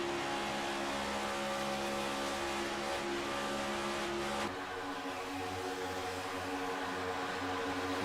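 Lapped stock cars in a Daytona International racing game drone past with steady engine noise, a continuous mid-level roar that shifts pitch partway through as the cars pass, with no talk over it.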